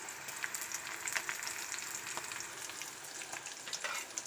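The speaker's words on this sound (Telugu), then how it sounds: "చూడండి, ఆనియన్ అవి అయితే వేగాయి కదా. తర్వాత వెల్లుల్లి అయితే వేసుకోవాలి." Garlic dropped into onions already frying in a pan, a bright continuous sizzle with crackles and occasional stirring scrapes, close and fairly loud, with no talking.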